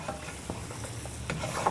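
Mushroom and whisky cream sauce reducing over high heat in a hot pan: a continuous close bubbling sizzle, with spatula scrapes across the pan.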